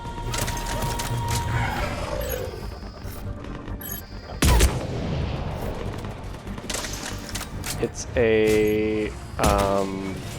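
Scorpion sticky-grenade pistol firing in the Mass Effect 3 combat game, giving sharp bursts and a loud blast over constant battle noise and music, with voices talking throughout.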